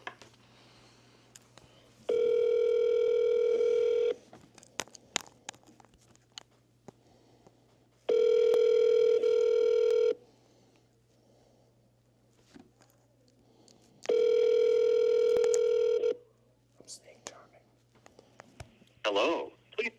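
A phone call rings through an earpiece: three long, evenly spaced ringback tones about two seconds each, separated by quiet gaps with faint handling noise and a low steady hum.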